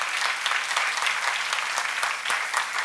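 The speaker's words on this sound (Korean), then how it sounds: "박수 좀 세게 쳐." A seminar audience at a church sermon claps together, a dense, even burst of applause filling the whole moment, close and loud with no speech over it.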